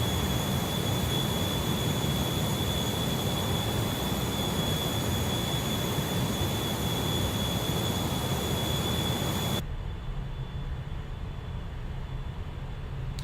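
An Embraer Phenom 300E business jet's engines in Microsoft Flight Simulator: a steady, loud broadband roar with a high whine, dropping abruptly to a quieter hum near the end.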